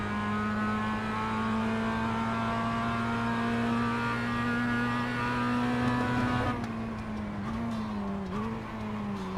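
Sustained race car engine drone at a steady high pitch from an eNASCAR iRacing qualifying race, loud and constant, shifting pitch near the end as the car changes gear.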